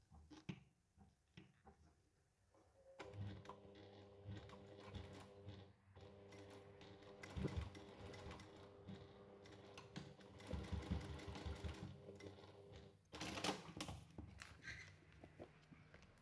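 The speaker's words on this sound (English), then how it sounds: "Now we're going to top stitch this part here using a 1/8 seam allowance." A sewing machine runs in bursts, top stitching a bag with an eighth-inch seam allowance, its steady mechanical hum and needle chatter starting after a quiet opening and continuing with short pauses, close and fairly loud.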